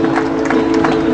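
An audience applauding to welcome a curtain raiser event at the Hillview Motors premises, a loud dense clatter of many hands clapping together with a steady hum underneath.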